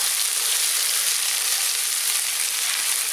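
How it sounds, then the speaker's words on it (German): Garlic and onions sautéing in a Dutch oven give off a steady, dense sizzle and crackle of frying, close and constant throughout with no talking. "Wir geben jetzt unseren Knoblauch dazu. Lassen den auch noch kurz was mit anschwitzen."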